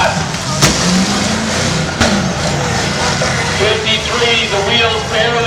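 Cars in a demolition derby crash together, with loud engine roar and a couple of sharp impact bangs among a noisy crowd.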